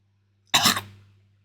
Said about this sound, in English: She coughs and spits up a little blood.